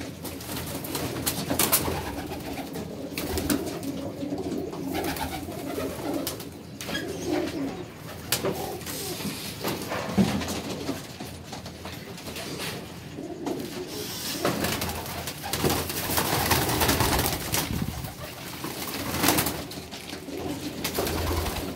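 A flock of pigeons coos steadily and close up, soft overlapping throaty calls repeating through a long stretch, with rustling and wing noise in between and no talk.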